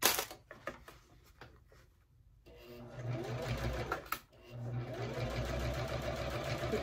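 A sewing machine stitches along the spine of a handmade bag, starting with a few clicks, then running in a steady close whir with a brief pause, while a voice talks over it.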